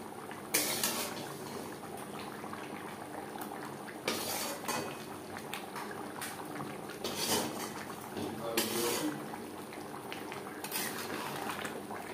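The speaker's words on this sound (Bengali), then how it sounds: "আলু বেশ ভালো করে মিক্সড করে দেব।" Fried potatoes are stirred into chicken curry in a pot, with a metal spoon clinking and scraping the sides in irregular bursts over a low background bubbling.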